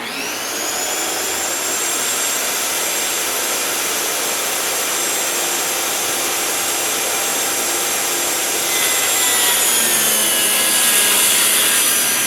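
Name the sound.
table saw cutting maple board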